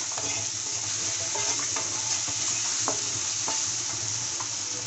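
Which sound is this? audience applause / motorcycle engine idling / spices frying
spices frying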